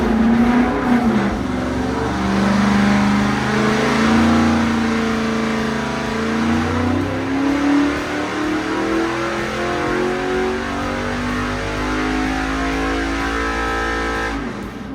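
A 427 V8 in a Nova roars through a dyno pull, its pitch climbing steadily under full load for several seconds, then easing back down, loud and close with no talk.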